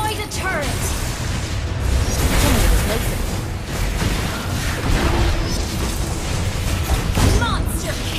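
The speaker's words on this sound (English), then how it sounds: "You destroyed a turret!" Loud in-game explosion from a turret being destroyed in the mobile MOBA Mobile Legends, a booming burst over dense game music and effects, with an announcer voice speaking.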